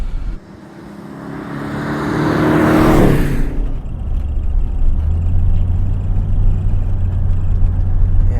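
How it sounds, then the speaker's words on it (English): A Mercedes W123 converted with a 560 V8 engine revs up in a loud, rising roar that peaks after about three seconds, then settles into a deep, steady rumble close by. "does make a great noise as well. You can't beat a V8, can you?"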